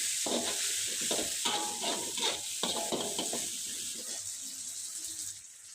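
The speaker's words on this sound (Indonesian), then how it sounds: "tumis sampai harum" Ground chili paste sautéed in a pan with shallots gives a soft sizzle and repeated scraping stirs, close and moderately loud, tapering off into quieter sizzling.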